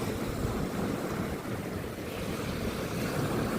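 Surf breaking and washing along a Lincolnshire beach near Trusthorpe and Huttoft, a steady, close, low rumbling wash of white water with wind buffeting the microphone and no voices.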